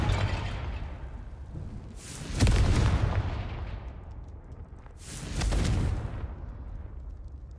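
Two deep, booming fire-spell blasts from the Confringo spell in the wizarding game Hogwarts Legacy erupt a few seconds apart, each a heavy rumbling burst that swells and slowly fades over a low background.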